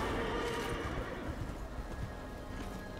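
Horse galloping in the video game Darksiders Genesis, with steady clip-clop hoofbeats and whinnies running continuously through the game's background sound.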